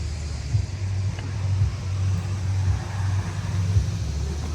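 Diesel engine of a GM L5P Duramax truck, freshly fitted with a replacement motor, idling steadily nearby with a low, even rumble and slight pulsing throughout, no talking over it.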